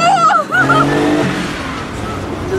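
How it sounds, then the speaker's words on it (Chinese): A 30-year-old Porsche 911 accelerates hard, its engine note climbing loud and close, with a sharp rising whine at first that settles into a sustained roar. "然后那条直路他直接就一脚油门跺下去了"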